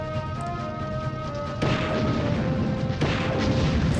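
A tank in Army Men: Sarge's Heroes fires its cannon at a wall: two heavy booming blasts land a second or so apart over a droning engine-like hum, fairly loud and close.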